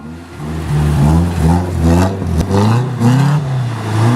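A Nissan S14 engine revs hard and repeatedly while the car spins donuts on a track, the note climbing and dropping in steady surges, loud and close throughout.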